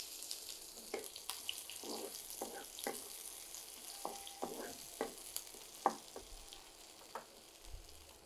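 Crushed garlic frying in a pan for a tomato bhorta, a faint crackling sizzle with scattered pops and the scrape of stirring, quiet and close with no talk.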